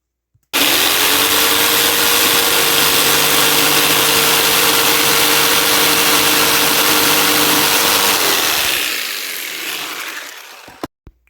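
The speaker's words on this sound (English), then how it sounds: "This is a mini table saw." A mini table saw whines steadily at high speed while cutting wood pieces for bee craft trios, loud and close, with a sustained motor tone that winds down over the last few seconds.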